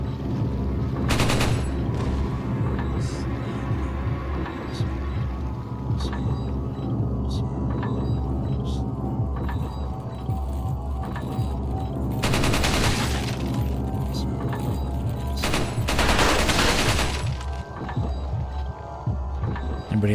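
Bursts of automatic gunfire in Resident Evil 4 on GameCube come in a few dense volleys over a constant low rumbling hum, loud and close, separated by quieter stretches with scattered single hits.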